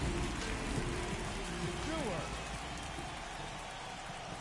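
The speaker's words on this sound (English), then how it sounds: "This rain is not letting up." Steady rain falling during a baseball video game broadcast on PS4, a constant dense hiss filling the whole clip under faint crowd-like murmurs and commentary.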